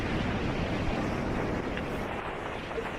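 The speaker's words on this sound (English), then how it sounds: "But this wind really picking up now." Strong storm wind roars in a dense, constant rush across an exposed spot during Storm Eowyn, buffeting steadily and loud with no pauses or voices.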